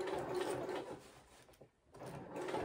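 A sewing machine runs steadily, stitching along the seam line of a pair of Pietra shorts, then stops briefly before starting up again for another short run.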